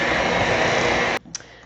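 An electric mixer whirs steadily through loaf cake batter made with sour cream, a loud continuous buzz that cuts off abruptly, followed by a faint clink.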